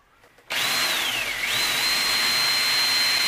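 A hole saw cuts through two layers of metal on an ammo box, starting abruptly after a moment of quiet and then whining steadily and loudly, its pitch dipping briefly before settling.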